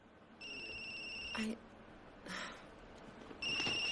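Cell phone ringtone sounding in repeated bursts, a bright electronic ring broken by short gaps, heard close with some background sound and speech around it.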